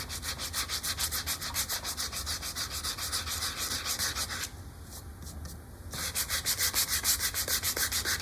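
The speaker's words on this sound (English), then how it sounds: "I'm just gonna take sanding pad. This is 120." A wooden bowl is sanded with a 120-grit sanding pad in continuous rhythmic rubbing strokes, close and steady, with a brief softer pause in the middle before the scraping resumes.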